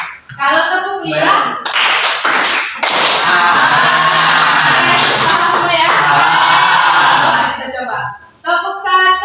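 A group of children clap in a counted exercise: sharp claps rise into a dense burst of many hands, with children's voices chattering and calling out before and after.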